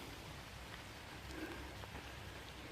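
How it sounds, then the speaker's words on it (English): Rain falls in the woods as a faint, even hiss of drops on leaves and ground, constant and distant with no voices. "Can't hear anything, only birds"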